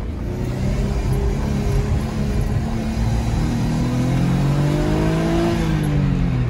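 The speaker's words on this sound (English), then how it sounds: "So in first gear, I'm going wide open throttle." An Audi S4 B5 with a P1557 fault pulls in first gear at wide open throttle, its engine note rising and rumbling loudly and continuously, heard up close from inside the car with no voices.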